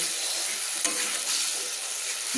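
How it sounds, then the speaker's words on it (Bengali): Mustard and green chili spice paste sizzles and fries in hot oil while being stirred in a pan, a steady close hiss with a faint scrape of the spoon. "দিয়ে আবারও ভালো করে আমি মশলাটাকে নেড়ে নিচ্ছি।"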